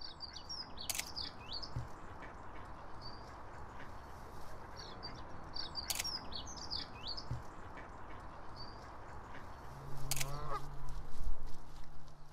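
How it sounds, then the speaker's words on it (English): A goose honks by a canal in cold winter conditions, with repeated honks and calls standing out over steady outdoor background noise, interspersed with bird chirps and a louder burst near the end. "I made my way down the canal and came across this goose"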